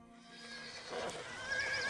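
A horse whinnies from start to finish, a rising, wavering neigh in the video game Zeus, heard close and alone over faint hoof clip-clop.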